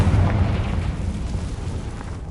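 Confringo blasting spell explosion in the Hogwarts Legacy video game, a loud booming burst at the start that decays into a rumbling, crackling tail.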